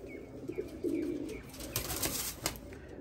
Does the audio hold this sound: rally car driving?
no